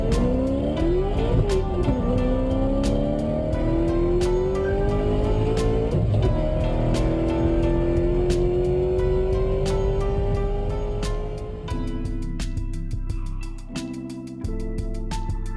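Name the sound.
model cars racing a lap around a track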